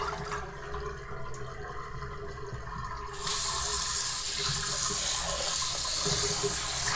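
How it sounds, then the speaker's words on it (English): Tap water runs steadily onto an orchid being rinsed at the sink, a close hissing stream that starts partway through after a quieter room hum, with no voices. "Now I'm just gonna hold my plant under the tap and rinse it off."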